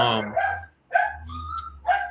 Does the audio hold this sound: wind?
no